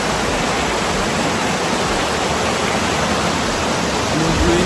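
Cambugahay Falls in Siquijor, a continuous loud rush of falling water, broad and steady, close by with no talking.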